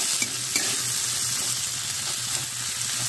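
Onions fry in a pan, a dense, steady sizzle hissing throughout at close range, with a few faint stirring scrapes and no talking.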